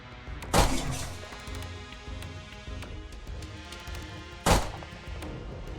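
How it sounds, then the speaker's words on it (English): Two sharp, heavy gunshot blasts from the video game Draft of Darkness ring out a few seconds apart, each loud and close with a brief decaying tail over low game ambience. "Since we have bullets, let's try this one. Wounding bullet."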